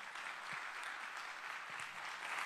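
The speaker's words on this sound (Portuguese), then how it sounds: "Vamos aplaudir bem forte ao nosso rei." Steady applause from a church congregation fills the whole stretch, fairly soft and distant, with no voices over it.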